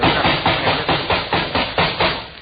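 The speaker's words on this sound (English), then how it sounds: "I'll bang it on the table" An old alarm clock is banged on a table in a radio comedy sketch: about seven loud, close thumps in a quick, even rhythm, heard alone.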